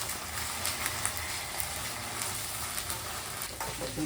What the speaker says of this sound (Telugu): మంచిగా అల్లం వేగిందండి, పచ్చివాసన పోయింది